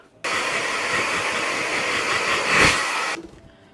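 A can of heat protectant hair spray gives one steady, close, loud hissing burst of roughly three seconds, swelling slightly near the end before cutting off abruptly, with no talking.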